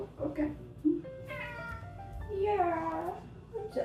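A house cat at a friend's home meows several times in drawn-out, rising and falling cries, close and fairly loud, with faint background noise between calls.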